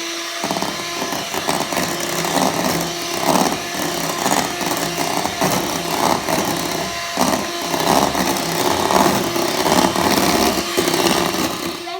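An electric mixer whips egg whites with sugar for Italian tiramisu, a loud, continuous motor whine and buzz running steadily throughout without pause.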